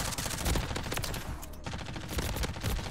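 Rapid gunfire from an SMG in Modern Warfare 3, loud, dense bursts of shots running nearly continuously with a brief lull midway.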